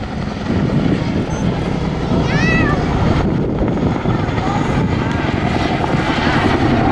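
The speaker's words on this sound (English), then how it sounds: "the Chinook changes the lift between its forward and aft rotors to manoeuvre" Chinook twin-rotor helicopter flying a display at the Southport Airshow, a loud constant rotor and engine roar throughout, with a commentator speaking over it.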